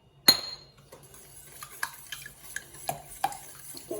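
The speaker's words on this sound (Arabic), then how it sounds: "كنخلط كلشي" A utensil clatters against a bowl in uneven strokes as ingredients are stirred and whisked, close and fairly quiet, with no talking.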